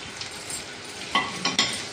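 Fried ginger, green chillies, curry leaves and garlic sizzle in a pan for lemon pickle over quiet background hiss, with a few sharp scraping stirs and clatters of a utensil near the end.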